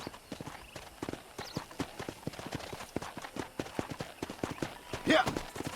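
Horse hooves clip-clop in a steady walking rhythm on a ranch in the video game Red Dead Redemption, close and distinct, with a brief louder scuff near the end.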